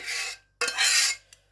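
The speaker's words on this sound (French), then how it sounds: "J'utilise que de la vaisselle en inox, donc c'est un peu bruyant." Stainless steel cookware scraping while shrimp biryani is layered in an Indian kitchen, two loud raspy scrapes of metal spoon against pan, the second longer, followed by a brief clink.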